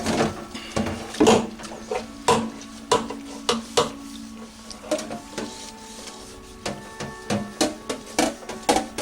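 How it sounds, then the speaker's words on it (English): Dishes are washed by hand at a kitchen sink during Thanksgiving beef vegetable stew cooking, with repeated clinks, knocks and clatters of crockery and utensils alongside running-water hiss, steady and close. "We'll wash up these couple of dishes right here."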